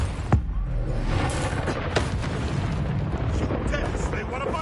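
A Confringo blast in the Hogwarts Legacy game, a loud boom near the start followed by sustained rumbling crackle and further bursts, with game voices and noise layered over it.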